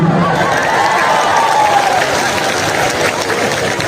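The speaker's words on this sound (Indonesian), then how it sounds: "Tepuk tangan." A church congregation at an evangelistic revival service in Mamasa, West Sulawesi, breaks into loud, steady applause, dense and sustained clapping filling the room with faint crowd voices mixed in.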